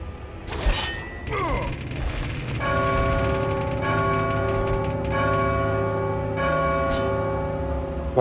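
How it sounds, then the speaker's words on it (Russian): A large bell in the God of War 2 video game is struck, ringing out with a loud metallic clang that sustains and hums for several seconds, with further strikes and game sounds layered over the ringing tone. "Надо долбануть как-то во второй колокол."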